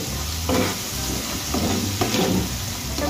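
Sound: tomatoes frying in a pan

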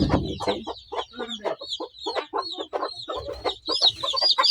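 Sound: chickens clucking on a poultry farm

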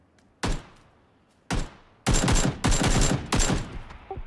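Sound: suppressive gunfire in the video game PUBG

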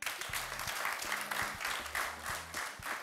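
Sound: hand clapping applause

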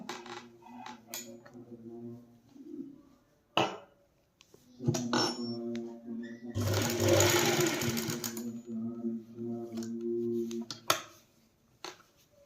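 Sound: embroidery machine stitching a logo on cloth

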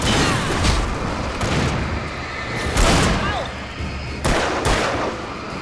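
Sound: revolver gunfire in video game Alan Wake

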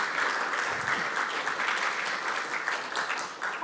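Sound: audience applause at a Kubernetes tutorial

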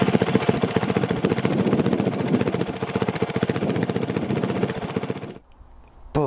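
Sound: motorcycle engine running

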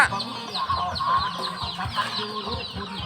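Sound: chicken clucking

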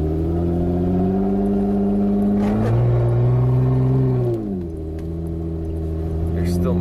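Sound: Jeep Wrangler engine running without a muffler

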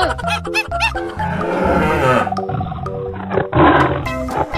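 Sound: tiger roaring

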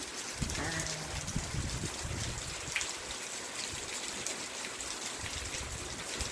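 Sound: rainwater running and trickling

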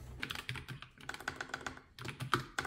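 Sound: typing on NuPhy Air96 mechanical keyboard

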